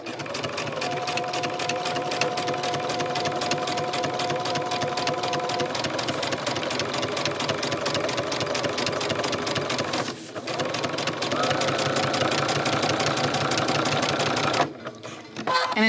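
A sewing machine stitches velvet ribbon onto a Gilded Age bodice collar, whirring steadily and close for most of the stretch with a short pause and a final stop near the end.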